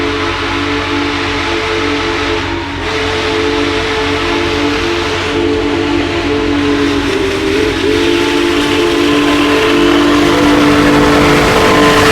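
The steam whistle of Union Pacific Big Boy 4014 locomotive blows loud and sustained, a steady multi-tone chord over hissing steam and rumble, heard close and alone.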